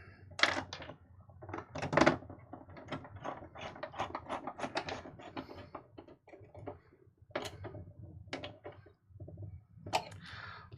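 Small screws dropping into and being fastened inside an Atari 2600 VCS console case during restoration, a series of close, sharp metallic clicks and rattles with brief pauses between them.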